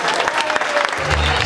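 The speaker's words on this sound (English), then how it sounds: "Big round of applause for Caden and Kelly." A crowd applauds Caden and Kelly in a brief, fairly loud burst of many hands clapping, with a low murmur of voices rising beneath it toward the end.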